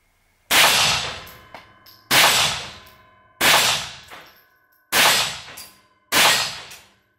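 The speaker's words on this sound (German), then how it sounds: "Ich schieße jetzt einfach mal so die 5 Schuss raus." Five sharp metallic clangs ring out at steady intervals, each gunshot striking a steel target that rings and decays before the next.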